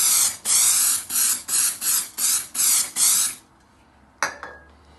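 Multimate activator sprayed onto filler over a wall crack in a house renovation: seven rhythmic close hisses from an aerosol can, each about half a second, then a short clatter and a faint ring as the can is set down.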